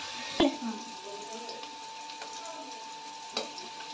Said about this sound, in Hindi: इसको फ्राई करने से इसका प्याज का कच्चापन हट जाता है